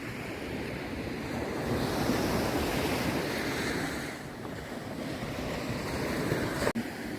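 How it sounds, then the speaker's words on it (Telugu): Waves washing onto a quiet, nearly empty beach in a steady, broad roar, swelling and easing slightly, with heavy wind buffeting the microphone and a brief click near the end. "సో చాలా ప్రశాంతమైన బీచ్ అండి ఇది"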